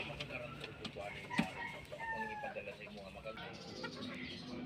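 Fighting roosters crow and cluck amid a busy background of other birds, with a sharper call standing out near the middle.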